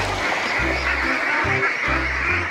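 Vân Đình ducks quacking in a run of loud, close, repeated honking calls as they are chased, with several overlapping voices and brief pauses between bursts.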